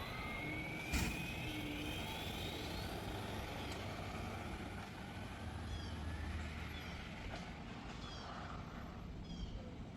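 An HBX 2997A RC car with a Supersonic 3650 5600kv motor on a 3S pack revs at full throttle, a high rising whine sweeping upward early on over steady loud outdoor noise, with fainter whines recurring later.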